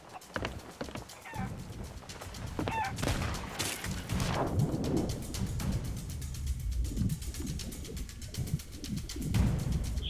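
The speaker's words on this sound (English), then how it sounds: "Shut up, chicken!" A chicken in Sea of Thieves clucking in short bursts over a busy game backdrop of thumps and rumble, fairly close, with no talk over it.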